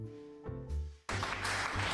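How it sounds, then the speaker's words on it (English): A brief tonal chime gives way to a loud, dense burst of applause that fills the second half, played during a live-streamed cooking session. "Thanks for the applause"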